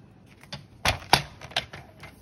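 Newer-style paper trimmer cutting a 9 cm wide sheet of colored paper into 3 cm strips, several sharp separate clacks and slicing snaps, two louder ones in the middle, in a quiet room.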